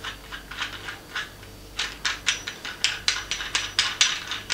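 Unscrewing the self-leveling bowl from an Artcise AS90C Pro tripod gives a run of crisp ratcheting clicks that start sparse and quicken, close and clear.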